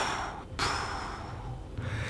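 A voice imitates a child's deep, slow breathing, one long breath with a sharp gasp-like inhale midway, close and breathy over a hissy background.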